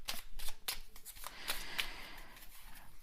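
Oracle cards shuffled and drawn by hand, a run of quick papery riffles and snaps up close, with no voices.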